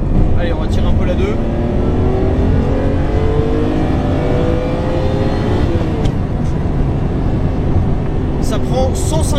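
Ferrari engine pulled hard through second gear, loud and continuous with rising revs and a dense roar throughout, heard from on board with a brief gear-change break near the end.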